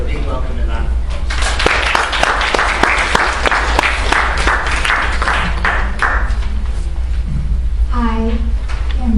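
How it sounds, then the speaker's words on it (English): Audience applause welcoming a speaker at a university radicalism forum: dense, steady clapping from a crowd for about six seconds, thinning out before a voice begins speaking at the end. "give her a big welcome and round of applause"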